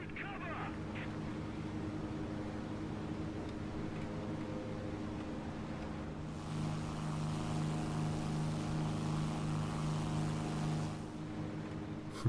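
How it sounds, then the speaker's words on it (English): A Bf 110 twin-engine warplane in a War Thunder simulator battle: a steady droning engine hum runs throughout and swells louder partway through, with faint background noise. "Look at that engine going."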